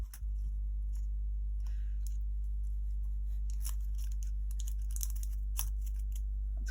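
Paper is cut by hand for a kitrigami star, with faint, irregular snips and crisp ticks over a steady low electrical hum.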